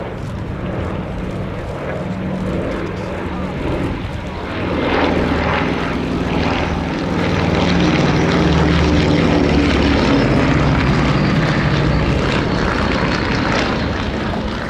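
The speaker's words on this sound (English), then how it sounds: "Just the one pass, but what a superb one from the Anson and the Blenheim." A vintage Avro Anson and Bristol Blenheim make a single flypast at an air show, their propeller engines droning loudly and steadily, swelling as the pair draws nearer.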